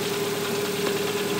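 A car engine running just after being started with a jump-start device, a steady mid-pitched hum with a faint knocking vibration, close and continuous.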